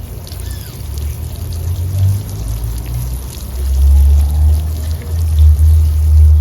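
Water pours steadily onto a tomato bed in a garden, a close, continuous splashing and gurgling flow that swells louder partway through.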